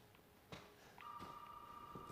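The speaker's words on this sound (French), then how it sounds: "Ah, le téléphone qui sonne." Telephone ringing inside a house in Resident Evil 7, a steady faint electronic ring tone starting partway through over low room ambience, with a few soft knocks and clicks, no talking.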